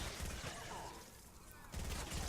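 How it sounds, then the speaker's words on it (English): Bobcat submachine gun in a video game firing short rapid bursts at a group of enemies, dense loud crackling gunfire in two clusters with a brief lull between, no talk. "Firing this thing in short bursts is just deadly."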